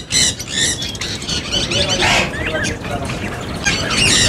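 Dense, loud chirping and squawking from many caged finches and Java sparrows at a Sunday bird market in Bahawalpur, close and continuous, with a voice talking over the birds.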